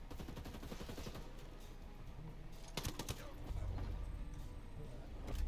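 Rifle gunfire in the video game Ghost Recon Breakpoint, a few sharp shots at a fairly slow rate over dense game background noise and a low rumble, with speech faint underneath.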